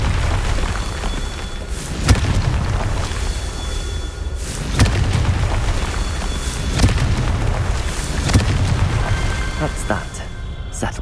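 Repeated spell blasts in Hogwarts Legacy hit as deep booming thuds every couple of seconds over a rumbling game soundscape, with some voice in the mix.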